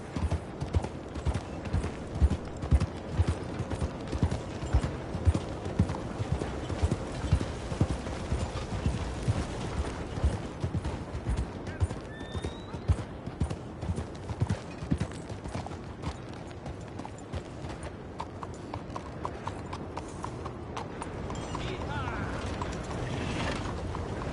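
Horse hooves clip-clop in a steady rhythmic gait in the video game Red Dead Redemption 2, accompanied by creaking tack and mechanical rattles, moderately loud and close, with a brief voice speaking over it.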